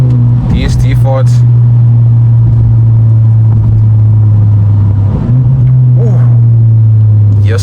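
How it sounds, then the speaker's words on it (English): A loud, close car engine runs with a deep steady drone, cabin-level, with brief throaty swells near the start and around five seconds; people chat over it. "this car sounds insane. I can't get used to the sound of this car."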